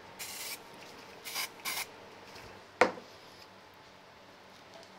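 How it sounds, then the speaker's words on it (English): Short hissing bursts of spray onto a paper card sentiment at a crafting table, three quick puffs close to the mic, followed by a single sharp tap, otherwise quiet. "I think I'll just do a little bit of spraying with this."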